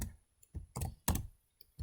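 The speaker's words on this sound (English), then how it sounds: "I'm going to type A, B, C, and we'll go again, D" Keys on a computer keyboard are struck one at a time, five distinct clicks spaced unevenly, close and crisp against near silence.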